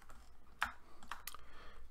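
Computer keyboard keystrokes while modeling in Blender, a few sharp, separate clicks at an uneven pace, fairly quiet and close, with no talking.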